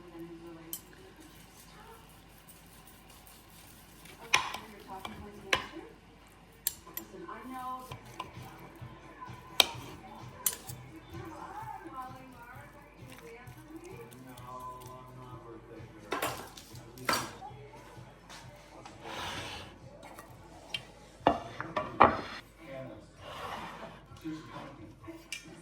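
A knife works through oven-roasted sirloin on a board, with scattered clinks of cutlery and dishes, soft cutting strokes and brief clatters, under quiet talk.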